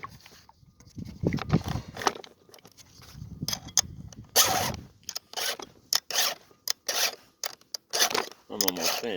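Repeated rasping strokes of a file sharpening a chainsaw chain, heard close and loud in quick bursts with short pauses between them, and faint talk in places.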